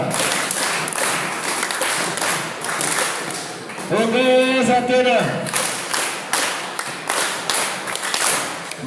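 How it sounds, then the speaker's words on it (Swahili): A school audience at a Kiswahili debate claps in bursts of brisk applause, with a speaker talking over and between the rounds of clapping. "Haya, ningependa tupigie makofi"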